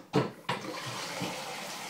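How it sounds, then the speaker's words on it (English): Tap water splashing as a kettle is refilled at a kitchen tap, with an abrupt gush at the start and a second burst soon after, then a steady, fairly close stream running alone. "I'm gonna refill the water. In the freaking kettle."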